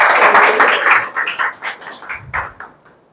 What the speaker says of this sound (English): So let's go ahead and start clapping for Shivani one more time.